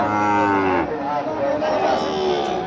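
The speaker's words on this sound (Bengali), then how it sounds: "এই যে শাহিওয়ালের 5 থেকে 6 মাসের একটা বাছুর" A Sahiwal bull calf of five to six months moos loudly and close by at a cattle market, one sustained call followed by a second drawn-out bellow.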